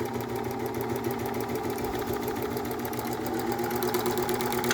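A White 228 sewing machine runs steadily while stitching fabric, a close, continuous mechanical whir with a fine rapid rhythm that holds at an even level throughout, with no talking.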